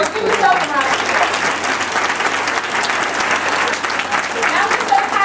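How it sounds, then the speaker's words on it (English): Loud, sustained audience applause fills a large kickoff meeting hall in New York City, dense clapping throughout with crowd voices mixed in. "Can you give everybody a round of applause? Give yourself a round of applause."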